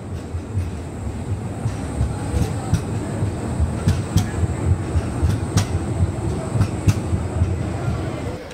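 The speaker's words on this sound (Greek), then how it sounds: "Να το τραμ, το Σκόντα." A Skoda tram passes along a street in Prague with a loud, steady rumble of wheels on rails, rhythmic clicks and squeaks of the track over continuous city traffic noise.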